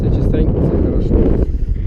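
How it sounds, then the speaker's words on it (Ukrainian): Wind buffets hard against the microphone while a Lifan motorcycle rides along forest roads, a rough, close, gusting roar that fills the whole moment. "лупить вітер."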